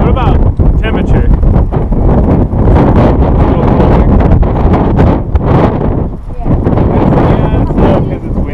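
Strong wind buffets the microphone outdoors among shrubby vegetation, a loud continuous rumbling roar with gusty swells, and people talk faintly beneath it.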